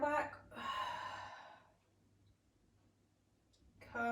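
Close, airy exhalation during a Pilates strength and stretch session as the back rounds, a sustained breath out after a short intake, then quiet before another breath begins.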